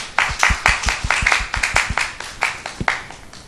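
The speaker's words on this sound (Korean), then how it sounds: "우리에게 생명을 주신 하나님께 우리 더 감사의 박수 한 번 더 올려드리겠습니다." A church congregation claps during a worship service, producing crisp, distinct handclaps in a quick, fairly regular rhythm that continue briefly and clearly with no talking over them.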